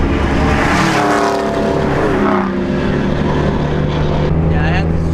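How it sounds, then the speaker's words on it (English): Chevrolet Cobalt SS with a misfiring engine during a street race, loud and close, revs climbing then dropping through a shift with a rough, uneven exhaust note and another vehicle roaring nearby. "I had to be shifting early because of the misfire."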